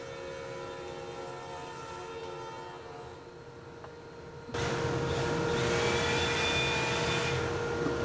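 A small blower runs steadily in a woodworking shop during an exotic wood and black epoxy build, a constant whooshing drone that jumps noticeably louder partway through and then holds, with a faint whistling tone near the end.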